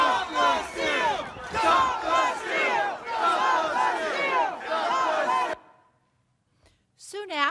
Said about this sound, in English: Here's what that chant sounded like from the crowd's perspective.